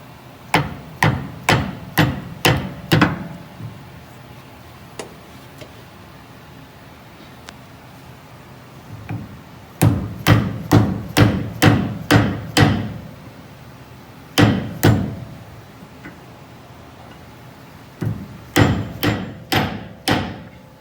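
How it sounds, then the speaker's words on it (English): Sharp metal hammer blows drive a greased spring bushing into place on a 1997 Ford F350, landing in quick bursts of five or six, separated by pauses, ringing out close and loud in an otherwise quiet space. "take your hammer"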